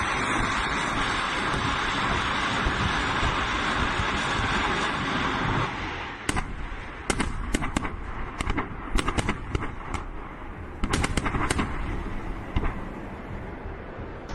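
Blasts from HIMARS 220mm munitions striking a Russian convoy: a steady roar of fire and rumble for about six seconds, then a string of sharp, loud cracks and bangs in quick irregular bursts.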